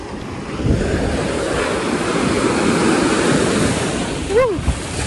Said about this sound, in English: Guys, there's big waves.